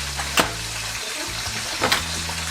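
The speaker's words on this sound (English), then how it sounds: "While we're waiting for the rest of the fish to fry" Fish frying in hot oil with a steady, crackling sizzle throughout, broken by two sharp louder pops or clanks, close by with no voices.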